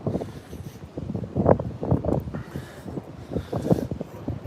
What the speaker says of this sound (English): That's how much the wind's picked up. It's right on my face as well.